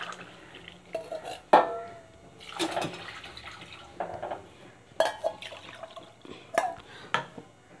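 Water is poured into a hot, dry pan of fenugreek rice, giving bursts of splashing and sizzle with a few metallic clinks of the pan in between, close and fairly loud.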